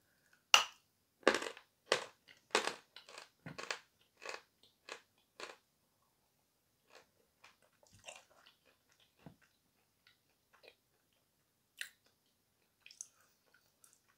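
Turkestan green chalk is bitten and chewed, giving loud, sharp crunches in a fast series of about ten bites, then sparser, fainter crunching as chewing continues close to the mouth.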